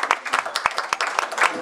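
Brief burst of audience applause at a Sheffield trades and labour club after a guest singer's spot, with sharp individual claps close by and a fuller crowd clatter behind.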